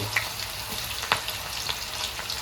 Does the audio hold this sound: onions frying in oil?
yes